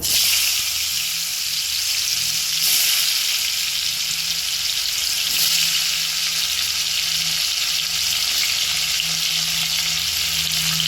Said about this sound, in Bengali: আলুগুলোকে একটু গোল্ডেন করে ভেজে নিচ্ছি।